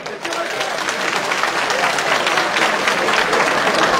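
Audience at a political rally applauding steadily, a dense wash of clapping that holds at full strength for the whole stretch, with a voice faintly audible beneath it.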